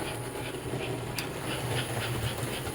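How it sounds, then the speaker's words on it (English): An American Flyer model train engine runs freely around a bend of track, a soft close whirring with light rhythmic clicking, no talk over it. "I don't know if you noticed a certain sound as it came around the bend, but it's a very free running engine."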